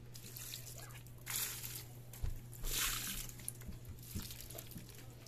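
Rainwater pours and trickles in soft bursts, splashing lightly onto dry plants and soil at close range, with a low steady hum underneath.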